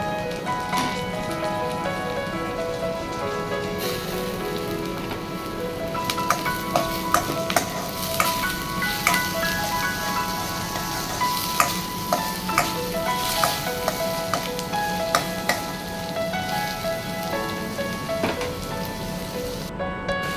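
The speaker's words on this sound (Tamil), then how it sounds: "இப்போ பொடிசை நறுக்கிய தக்காளியை சேர்த்து நல்லா வதக்கிக்கலாம்" Tomatoes sizzle and fry steadily in a hot pan, with occasional scraping and stirring clicks from a utensil; no talking.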